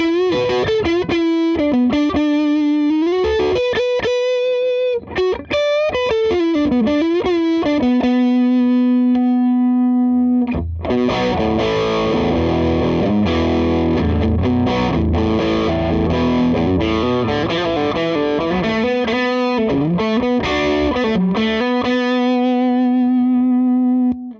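A 2019 Gibson Les Paul 58 Historic electric guitar played through a gain-driven, distorted tone, with single-note lines and bends, then thick sustained chords and a ringing held note, loud and close, with no voices.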